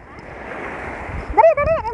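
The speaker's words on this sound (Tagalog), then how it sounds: "Malakas ko guys ang alon." Strong sea waves churn and splash steadily on a windy shore, with a voice exclaiming over the surf toward the end.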